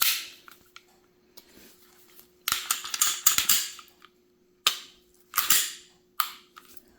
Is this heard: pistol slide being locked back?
yes